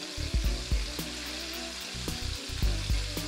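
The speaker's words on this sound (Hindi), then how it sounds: "ये ऑलमोस्ट फ्राई हो चुका है" Chicken pieces for Korean honey chicken fry in hot oil with a soft, continuous sizzle, punctuated by light clinks and stirring bumps, quiet and close with no talking.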